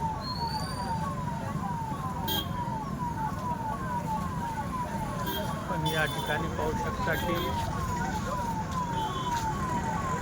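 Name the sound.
highway ambulance siren at accident site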